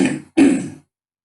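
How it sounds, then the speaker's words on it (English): A man clears his throat close up in two quick rasping grunts, followed by silence. "just can't clear my throat right now"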